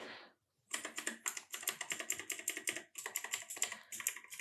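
Rapid typing on an HP GK320 RGB mechanical gaming keyboard, a dense run of crisp clacky keystrokes with a brief pause near the start and another around the three-second mark, close and clear with no talking.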